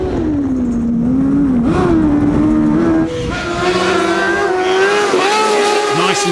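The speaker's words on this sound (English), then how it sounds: "Have a look at the way the car rises and falls on the suspension" A hillclimb race car runs a gravel course, its engine loud and near as it revs up and down through gear changes and corners, with tire and gravel noise under a commentator's voice.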